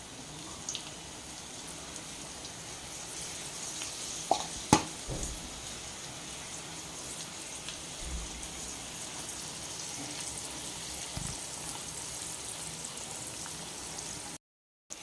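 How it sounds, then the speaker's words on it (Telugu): Okra pieces fry in oil over low heat, a soft, steady sizzle and crackle that continues evenly and fairly quietly, with a brief clink of a utensil partway through. "సిమ్లో పెట్టి వేయించుకుంటే చక్కగా బెండకాయ ముక్కలు అనేవి వేగుతాయి"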